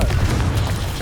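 A Confringo explosion spell from the video game Hogwarts Legacy bursts as one loud, close, dense roar with a deep rumbling low end that fills the whole moment, with no talking.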